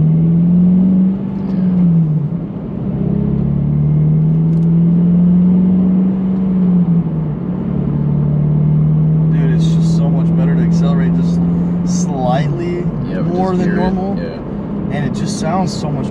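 A 2022 Toyota GR86 fitted with a Corsa cat-back exhaust idles with a deep, loud drone close by, then revs in short rising blips, with voices chattering over it.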